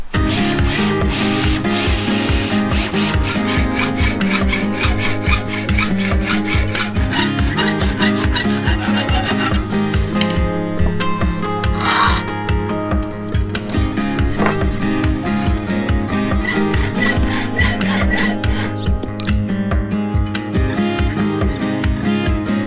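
A power tool grinds and saws through a metal greenhouse bracket continuously, a loud rhythmic rasping drone with a brief shift in pitch midway.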